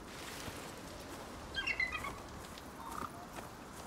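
Bird calls in the open-world survival game Icarus: a few short, faint chirping notes over a soft ambient background, one brief cluster followed by another later.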